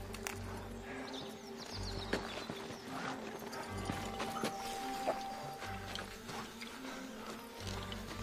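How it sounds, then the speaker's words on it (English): Horses' hooves clip-clop at an even walking pace in a western film, soft and somewhat distant, over a low steady hum of background noise. "These horses need a break."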